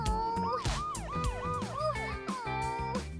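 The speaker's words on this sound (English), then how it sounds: "Oh no, Elsa, ambulance!" An ambulance siren sounds in rapid warbling up-and-down sweeps, close and loud, over a busy musical backing with a steady beat.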